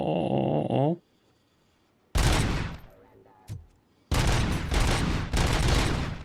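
Sniper rifle fire in RoboCop: Rogue City. A brief synthetic tone comes first, then a quiet gap, then loud, close, sharp shots and crackling bursts that come back in two heavy clusters, with no one talking.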